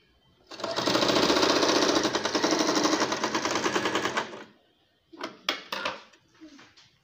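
A sewing machine stitches fabric strips for a box-pleated baby frock, a loud fast mechanical whirr running steadily for several seconds before stopping, followed by a few sharp clicks and handling knocks.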